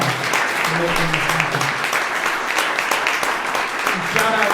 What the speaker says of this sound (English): give Matt and Marianne a huge round of applause